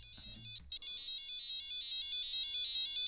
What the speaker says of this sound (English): You can change the tone, the speed, the beeping, and of course, if you have any inclination to code your own little synthesizer, you can change this all up.